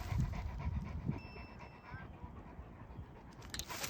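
A dog pants in short, steady breaths during obedience training outdoors, close and moderately loud, with faint background noise and a sharper noise right at the end.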